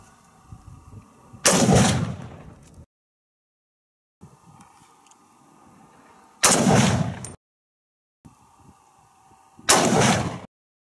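A 300 Blackout rifle fires subsonic rounds through a chronograph, three loud, sharp reports spaced a few seconds apart, each ringing out briefly before cutting to near silence, with faint outdoor background between shots.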